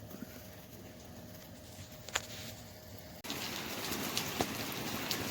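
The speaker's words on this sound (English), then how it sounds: "I thought I was going to beat the rain, but it turns out it didn't" Rain falling outdoors around a maple sap boiling setup in Wisconsin, a steady patter of drops that grows louder and denser partway through, with occasional sharper taps close by.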